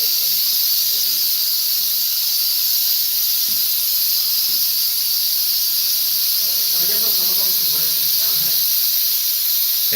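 Pressurized gas hisses steadily from a rocket engine during a cold flow test, a loud, constant high-pitched hiss running throughout while people talk faintly in the background.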